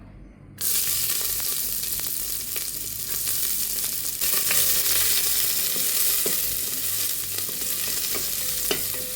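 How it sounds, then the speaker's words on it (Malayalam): Garlic and ginger drop into hot coconut oil and burst into a loud, sustained sizzle, with scraping stirs and small crackles on top and no voices. "ഈ ഒരു എണ്ണയിലോട്ട് ആദ്യം തന്നെ വെളുത്തുള്ളി ഇഞ്ചിയോടെ ഇങ്ങോട്ട് ഇട്ട് കൊടുക്കാം"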